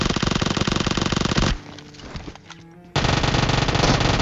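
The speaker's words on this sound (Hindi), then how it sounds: "2 उजी के प्री फायर काफ़ी होते एक बंदे को मारने के लिए" Two Uzi submachine guns firing in PUBG Mobile, a loud continuous rapid burst for about a second and a half, a short quieter gap, then another sustained burst, no speech.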